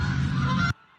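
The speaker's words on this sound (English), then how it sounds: "that's Canada geese. Yes, that's what they're called. Canada geese flying over" Canada geese honk loudly in flight overhead during a T20 cricket match, a dense burst of overlapping calls lasting under a second before cutting off abruptly.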